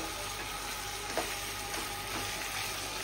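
Chicken pieces cooking in oil in a pot, a steady low sizzle with faint scraping, quiet and continuous, with no voices.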